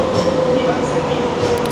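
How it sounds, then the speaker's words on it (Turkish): An Osaka Loop Line metro train at a station platform in Japan, giving a loud, continuous rumbling hum with a faint steady tonal whine, and a murmur of voices in the background. "Şimdi ikinci metro için Osaka Loop Line'a geldik."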